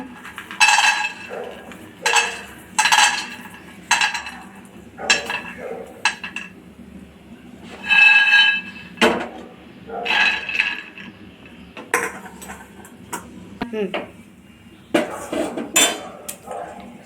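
Peanuts roasting in a pan on a kitchen stove, with repeated clinks and scrapes of a metal spoon against the pan coming in irregular bursts, close and clear, and no talk.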